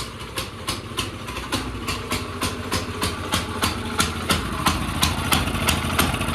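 A minibike engine fitted with a Stage 1 kit runs unevenly and smoky, its loud, steady putter carried by a rapid, regular pulse of firing knocks with no talk over it.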